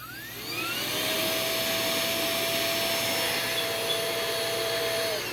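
A vacuum cleaner whirs up to speed and holds a steady, loud whine with a tonal hum while sucking up junk mail paper, no voices over it.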